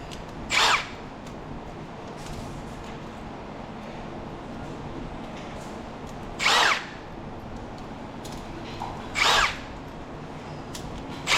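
A power drill backs screws out of scrap metal in short whining bursts, three or four brief high spins spaced seconds apart over a steady background hum.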